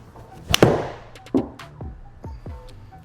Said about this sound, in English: Hit maybe a little knockdown type shot.